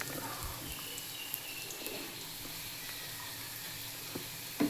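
Onions frying in a pan at home, a soft steady sizzle running throughout at moderate level, with a few faint clinks near the end.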